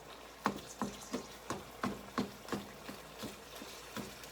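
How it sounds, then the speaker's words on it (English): Ground beef browns in a frying pan with a soft steady sizzle, broken by a regular series of sharp scraping strokes as the meat is chopped and stirred, heard fairly close and alone. "you could hear the sizzling slow down just a little bit"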